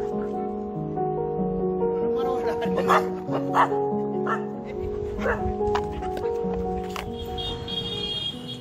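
A pet dog gives several sharp yips and short barks with a few whimpers, close and fairly loud, over a steady tonal background hum.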